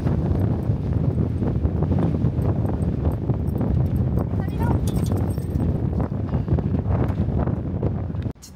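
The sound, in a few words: strong wind storm in Texas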